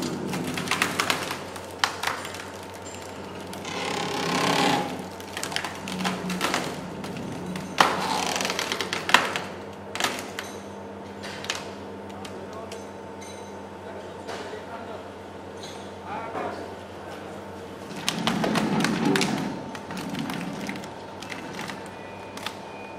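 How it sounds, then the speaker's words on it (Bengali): A hydraulic firewood log splitting machine on a three-wheeler, used in Bangladesh, runs with a steady mechanical drone and hum, broken by repeated sharp cracks and knocks of wood, with some surges in level. "লাকড়ি চেরাই করা বা লাকড়ি কাটার মেশিন।"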